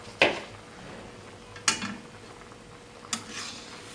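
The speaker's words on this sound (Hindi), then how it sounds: "अब हम इसको अच्छी तरह से भून लेंगे।" Chicken karahi masala with tomato, ground cumin and coriander stir-fried in a pan over high flame, with three distinct scraping clinks of a spoon against the pot over a faint, steady sizzle.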